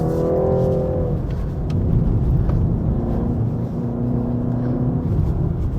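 A BMW 330i 2023 LCI accelerates in second gear on a slippery wet mountain road at Genting, its engine drone steady and loud with a rising tone early on, tyre and road noise underneath.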